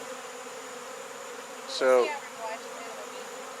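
Honey bees buzz steadily inside a hive built in a propane tank, a constant low hum running throughout, with a single short spoken word rising briefly over it.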